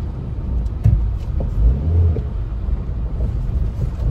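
A car idles and rumbles nearby on a Konkan road in traffic, its engine low and steady with a few brief rises as it turns around, no voices.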